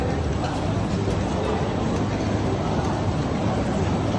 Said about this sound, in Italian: Questo è il treno